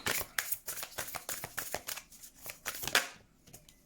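Tarot cards are handled and laid down on a table, a close run of quick papery flicks and soft slaps in an uneven rhythm that fades at the end, with no voices.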